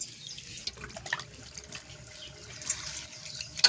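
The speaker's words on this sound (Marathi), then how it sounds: "आता 2-3 पाण्याने धुवून काढते." Leafy tandulsa greens, freshly plucked, being rinsed by hand in water, with soft splashing and dripping at a moderate level, a few brief sharper sloshes standing out and no talking.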